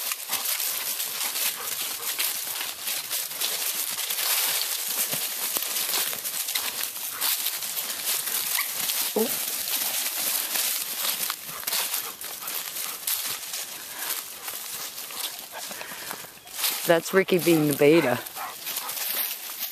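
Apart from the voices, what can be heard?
dogs disciplining a puppy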